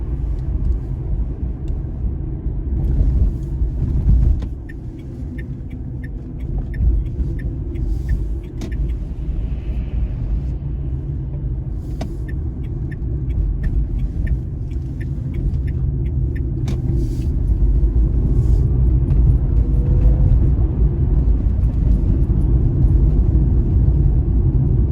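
Interior of a Dacia Spring electric car driven fast on a motorway, a loud steady low road and wind rumble that swells toward the end, with faint clicks and no talk.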